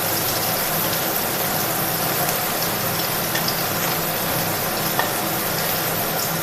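Garlic fries in oil in a pan for a dish of radish greens, giving a close, steady sizzle that carries on evenly throughout.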